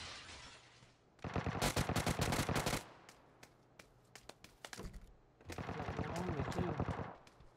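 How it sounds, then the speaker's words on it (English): Gunfire in the mobile battle royale game PUBG New State: two sustained bursts of rapid automatic fire with scattered single shots between them, loud and close, while a player talks briefly. "Who's shooting him?"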